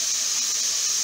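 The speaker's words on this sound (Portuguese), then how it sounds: "Tô fritando um bifinho, ó." A small steak fries in a pan during lunch preparation, giving a loud, steady, close sizzling hiss that holds evenly throughout with no talking.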